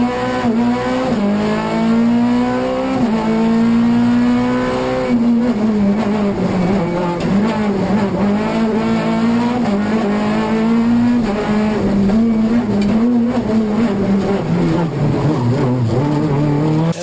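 A rally car in the 2017 Asturias rally championship screams as its engine revs rise and fall through repeated gear changes, loud and close throughout, with bursts of tire squeal.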